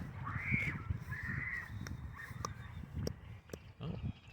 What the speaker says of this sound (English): birds just attacked each other